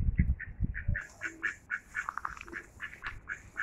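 Domestic ducks kept in a backyard alongside chickens, cats and rabbits quack in a rapid, bouncy series of short nasal calls, close and moderately loud, with soft thuds and scuffling early on.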